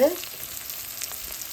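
Tempering sautéing in a pan, a steady close hiss of frying with a short clink at the start.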